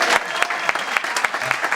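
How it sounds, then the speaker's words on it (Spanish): A church congregation applauds in a lively rhythmic patter, with sharp accented claps recurring about every quarter second, loud and close, and faint voices beneath. "Clayton Max da Costa, vamos aplaudir o Senhor."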